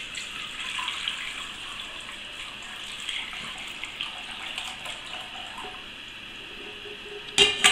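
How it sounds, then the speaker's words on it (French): Broth is poured and strained through a fine chinois sieve, giving a continuous close trickle and splash of liquid, ending with a few sharp metallic clinks of kitchenware. "je vais filtrer mon jus à l'aide d'un chinois."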